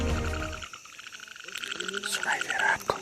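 Frogs croak in the water of Pai Forest, a dense chorus of rapid pulsing calls at close to moderate distance, rising after a loud rustling start and continuing steadily to the end.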